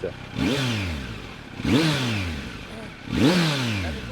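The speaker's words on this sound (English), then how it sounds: "the piece of resistance is that exhaust over there that gives it such an exquisite note" A Kawasaki Z900 ABS with an aftermarket exhaust revs three times in a row, each blip of the throttle rising sharply then falling away in a deep, raspy exhaust note, close by.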